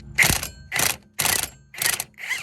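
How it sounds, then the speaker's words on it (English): A 1/2-inch impact wrench works the brake line fittings on a 2004 Buick LaSabre, firing five short, loud hammering bursts evenly spaced with brief pauses between them. "When you ain't got enough room to run your wrench on your brake lines, just use your 1/2-inch impact"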